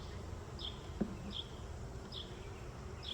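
Honeybees buzz steadily around hive frames during a swarm hive inspection, a faint continuous hum with a few brief higher buzzes as individual bees pass close.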